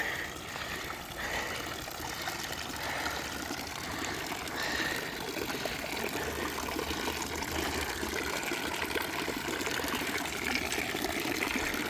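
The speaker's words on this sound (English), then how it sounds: "This is a pretty cool fountain." Continuous splashing and trickling water from a park fountain in Cherokee Park, steady and fairly close, with no talking.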